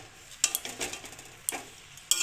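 Kheshari greens with bori are stirred in a pan. Close, crisp scraping strokes come in several uneven bursts over a faint sizzle, with no talking.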